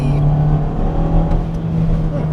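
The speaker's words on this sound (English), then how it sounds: "full throttle acceleration." Hyundai Kona subcompact SUV with a 1.6-liter turbocharged engine under full-throttle acceleration, a loud, steady engine drone heard from inside the cabin, with a faint shift around the middle.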